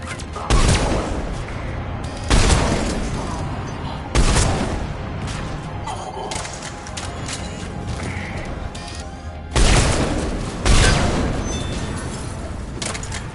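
Heavy booming blasts of cannons in the video game Mass Effect 3 go off at irregular intervals, each a loud deep thud with a rumbling tail, over a constant background din.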